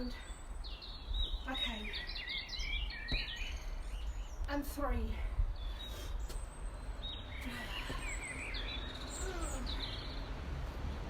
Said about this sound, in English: all you can hear, or all I can hear, is birds singing